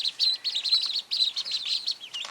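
Several golden Pekin ducklings peep in quick high-pitched bursts, near and steady, with short pauses between the runs of chirps.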